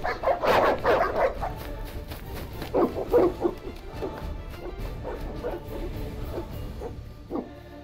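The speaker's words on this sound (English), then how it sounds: "They're evil dogs." Evil, strange-looking dogs in The Witcher video game barking and yelping in several loud bursts, densest at first and then more scattered, with game ambience beneath.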